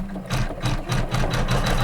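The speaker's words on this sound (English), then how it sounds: "I'm going to hit start, and it's going to tack down this fabric now." An embroidery machine tacks down fabric on a quilt block, a close, loud, rhythmic mechanical thumping and whirring that pulses in quick regular beats.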